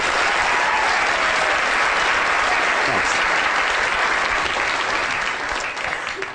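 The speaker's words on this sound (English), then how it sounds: "So big round of applause for row E." An audience at a lecture breaks into loud, sustained applause that fills the room steadily from start to finish, with no voices standing out.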